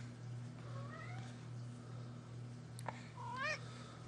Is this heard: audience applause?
no